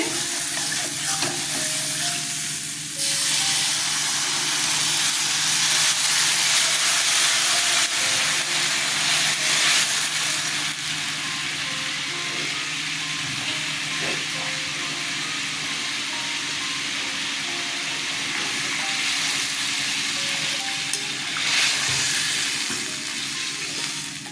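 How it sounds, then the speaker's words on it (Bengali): Water poured into a fried spice paste of tomato and green chilli in a pan, a loud, continuous hissing sizzle with bursts of steam, close and unbroken for a long stretch. "মশলা কষানো হয়ে গেছে এবার জল দিয়ে দিচ্ছি"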